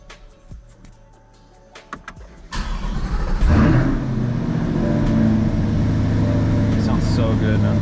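Chevrolet C8 Corvette starting up: a few clicks, then the engine catches with a loud burst that flares and settles into a deep, steady idle rumble, recorded close by.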